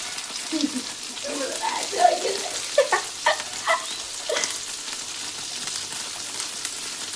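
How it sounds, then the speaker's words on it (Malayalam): Chopped vegetables sautéing in a pan for a semiya (vermicelli) dish: a continuous close sizzle broken by a run of clattering stirs and utensil knocks, then settling into steady frying. "നമ്മൾ അരിഞ്ഞു വെച്ച് നേരത്തെ അരിഞ്ഞു വെച്ചിരുന്ന വെജിറ്റബിൾസ് എല്ലാം എടുത്ത് ഇട്ട് വഴറ്റിയെടുക്കുന്നു"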